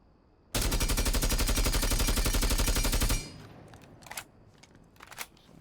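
IQ's gun fitted with a compensator in Rainbow Six Siege, firing a loud, rapid automatic burst of about two and a half seconds, then stopping, leaving quieter scattered clicks and clatter.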